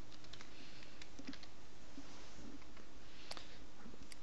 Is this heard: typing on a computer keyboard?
yes